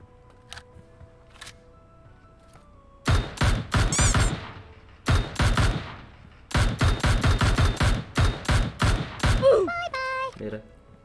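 Gunfire in the mobile battle royale game PUBG Mobile: loud bursts of rapid automatic shots in several volleys separated by short pauses, with quieter tones and a brief voice between bursts.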